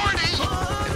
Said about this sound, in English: I hit the chopper.